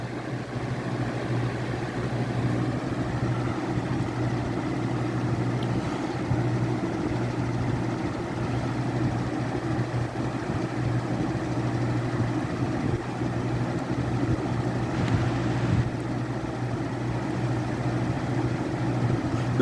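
An older or newer Holmes box fan runs steadily at a fairly high speed, giving a quiet, constant motor hum and airy whoosh throughout, with no voices.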